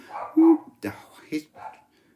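A dog in a podcast studio gives a few short barks and yips at close range, mixed with speech-like sounds.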